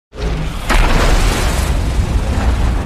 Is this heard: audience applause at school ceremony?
no